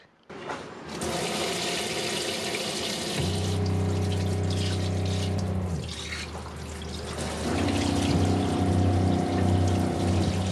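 Shurflo water pump in a JDM camper's newly installed water system, humming steadily while water rushes and splashes from a tap, the pump tone shifting as it cycles on and off.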